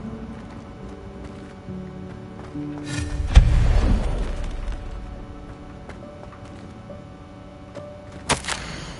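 A Confringo blasting spell in a Harry Potter game bursts with a sudden low thud and a rumbling boom that swells and fades over about a second, with a softer sharp crack later.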